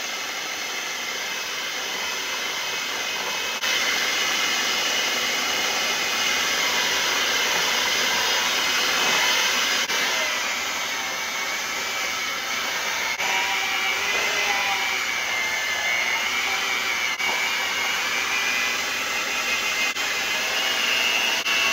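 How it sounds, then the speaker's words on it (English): An electric mixer runs steadily on medium speed through beignet dough, a loud, even whirring hum with a slight step up in intensity early on, continuous and close with no talking. "And we're going to mix these on medium speed until it's well combined."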